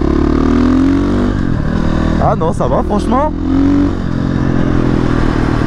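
A supermoto motorcycle nearly out of fuel runs with a steady engine drone heard from the rider's position amid wind noise, while someone speaks briefly over it.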